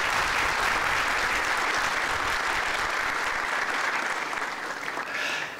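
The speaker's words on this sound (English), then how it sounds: "Let's please welcome them with a round of applause." Sustained, dense applause from a large audience welcoming the Mayor of Addis Ababa at a conference on digitalization in Africa, steady and full for several seconds before tapering slightly near the end.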